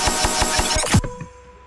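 Electronic drum fill with a run of evenly spaced punchy hits under dense, distorted noisy texture, ending in a heavier low thump before it cuts to a quieter glitchy tail.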